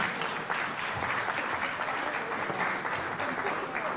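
Applause from an audience at a recitation contest, with a sustained, even wash of many hands clapping, steady and moderately loud for the whole stretch.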